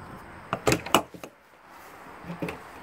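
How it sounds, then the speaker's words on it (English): A few quick clunks and a latch rattle as an RV storage compartment door on a 2019 Flagstaff Classic 5th wheel is opened up close, followed by a quiet pause and a soft knock. "Let's see if I can get the door open here."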